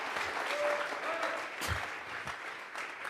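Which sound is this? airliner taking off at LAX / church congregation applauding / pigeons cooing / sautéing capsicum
church congregation applauding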